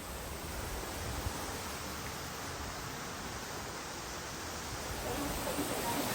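Waterfall at Düden cave in Turkey, a steady broadband roar of falling water that stays even and constant throughout, close by with no voices over it.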